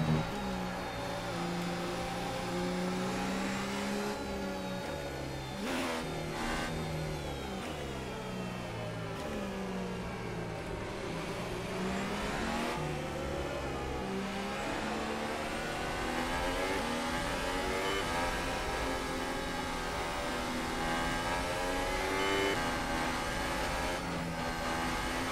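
F1 race car engine in the F1 2018 video game, revving hard through sustained high-pitched whines that climb and drop repeatedly during a practice start, loud and continuous without voices.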